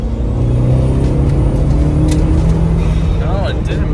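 An Audi TT engine runs under load during a misfire test, a loud, steady droning hum with a slight rise in pitch near the end, while someone talks over it.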